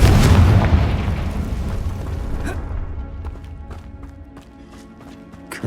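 A Confringo blasting spell goes off in the video game Hogwarts Legacy: a loud, heavy boom bursts out at once and rolls away, followed by faint scattered clatter and light impacts.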